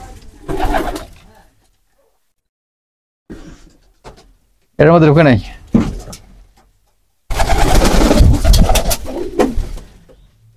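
Pigeons kept at a home loft coo in short, intermittent bursts between separate patches of close talk, with near-silent gaps in between.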